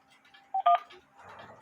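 Two short telephone keypad tones sound at a PayPal phone menu, a brief beep followed quickly by a second, loud and clean, with faint line noise and a soft rustle after them.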